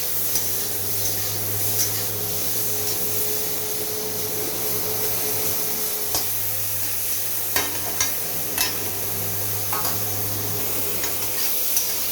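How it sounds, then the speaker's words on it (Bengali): Steady sizzling of fish coated in salt and turmeric frying in oil in a wok over a constant low hum, with a few sharp clicks and spatters toward the end. "কড়াইতে আমি তেল দিয়ে দিয়েছি, মাছটাকে আমি লবণ হলুদ দিয়ে মেখে নিয়েছি। এখন এটা আমি ভেজে নেব।"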